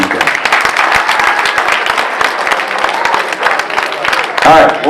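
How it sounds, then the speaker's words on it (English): Crowd at a Woburn Country Idol singing contest claps in a lively round of applause, dense and close, with a voice briefly heard near the end. "How about a nice round of applause for you guys?"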